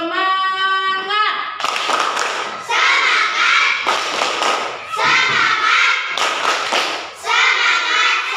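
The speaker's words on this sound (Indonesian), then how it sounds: "Coba sekarang tepuk semangat." Children doing a rhythmic spirit clap (tepuk semangat) in an Indonesian classroom, loud bursts of clapping in a patterned rhythm, alternating with shouted group chanting after a brief sung or called lead-in.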